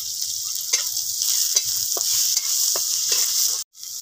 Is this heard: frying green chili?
yes